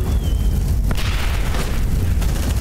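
Grenade explosion in the game Aliens: Dark Descent, a loud deep boom with a rumbling tail and scattered crackles that fill the whole stretch.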